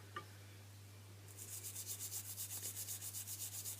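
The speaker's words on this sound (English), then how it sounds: "So you just carry on buffing it to reveal the silver." Silver clay piece being buffed, a soft repetitive rubbing that starts partway through and continues in steady back-and-forth strokes, faint and close, over a constant low hum.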